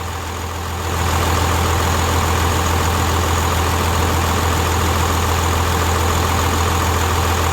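A 12-valve diesel engine idles steadily at its first start, a loud, close, unbroken low rumble with a constant drone that settles in after a brief rise at the start.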